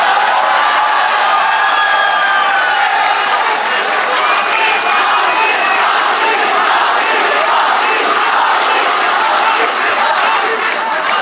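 A large audience at a poetry recital gives the poet sustained, loud applause, dense clapping mixed with cheers and shouts that fills the whole stretch without pause.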